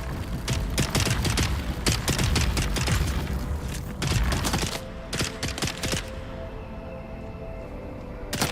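Rapid bursts of gunfire crack and rattle in the video game Dune Awakening, dense volleys for several seconds, then sparser shots trailing off.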